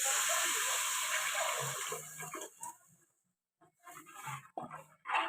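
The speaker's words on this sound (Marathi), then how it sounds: "आपण जे डाळ मिसळलेलं पाणी होतं ते टाकून घ्यायचंय" Dal-mixed water poured into a pan of hot oil with turmeric and fried spices for katachi amti, a loud rushing hiss that fades after about two seconds into quieter, broken bubbling.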